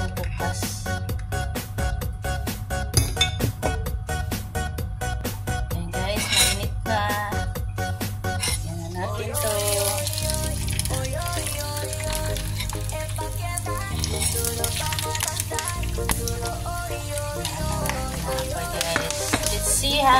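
Pieces of pork sizzle and crackle in a small amount of oil in a pan, a steady frying hiss under a backing of music with a rhythmic beat and occasional clinks of cookware.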